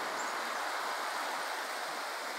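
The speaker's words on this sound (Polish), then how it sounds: "Popatrzcie, jaka tu rzeka cieknie po środku miasta." A river running through the middle of a small Czech town, heard as a steady, dense rush of flowing water that fills the whole moment with no voices over it.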